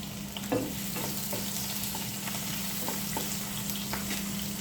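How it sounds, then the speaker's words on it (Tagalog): Onions sautéing in oil in a pan, a steady close sizzle with occasional light stirring clicks and scrapes. "So, igisa lang muna natin ng konti."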